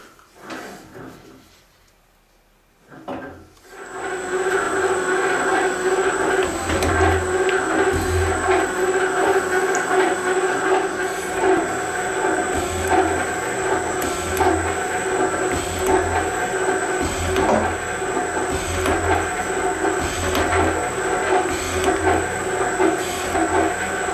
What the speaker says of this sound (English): now I'm going to break this edge with this flat-faced cutter